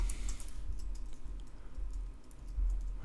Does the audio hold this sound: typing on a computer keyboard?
yes